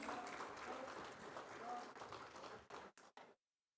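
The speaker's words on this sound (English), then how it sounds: "Can we give them a round of applause again, please?" Audience applause at a startup summit inauguration ceremony in Delhi, a dense steady clapping that swells and then breaks into a few last scattered claps before stopping.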